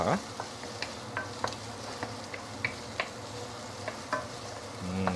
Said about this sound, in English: Let's saute this at least about 1 minute